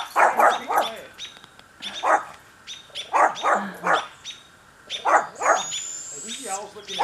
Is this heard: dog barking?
yes